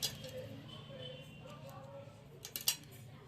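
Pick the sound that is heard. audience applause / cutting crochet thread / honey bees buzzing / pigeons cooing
cutting crochet thread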